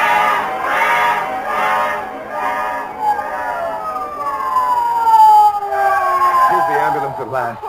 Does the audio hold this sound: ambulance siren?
yes